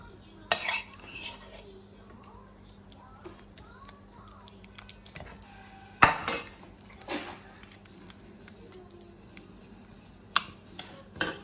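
Layering ragu over fresh lasagna sheets in a dish, with a few sharp clinks of a spoon against the dish and soft scraping in between, close and mostly quiet.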